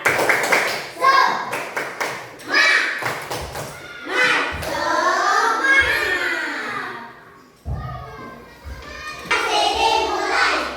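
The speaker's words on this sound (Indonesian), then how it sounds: "Semuanya tepuk semangat" Elementary school children in a classroom perform a rhythmic clapping chant, bursts of sharp hand claps alternating with voices chanting together, loud and close, with pauses between phrases.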